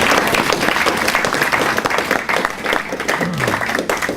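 A conference audience at a party conference transport session applauds its four panel speakers, a brief dense burst of clapping that tapers slightly, with faint voices mixed in.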